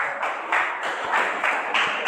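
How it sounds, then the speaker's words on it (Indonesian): Applause from a group in a classroom during a teaching performance assessment, a steady dense patter of many hands clapping at close range for about two seconds with no voices over it. "Tepuk tangan buat"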